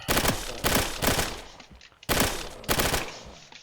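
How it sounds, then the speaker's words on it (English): Rapid bursts of gunfire from the Reign Fall sidearm in a video game, loud close volleys in two clusters separated by a short pause, each burst a quick run of sharp cracks. "say you run out of ammo in one, you can instantly swap and keep shooting"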